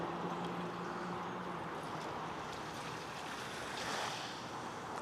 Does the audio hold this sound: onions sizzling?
no